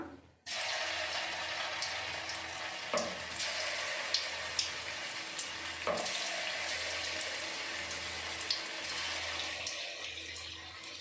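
Paneer dropped into hot oil, a steady bubbling sizzle that starts abruptly and runs continuously, with a few sharp clicks and pops on top, fairly quiet and close.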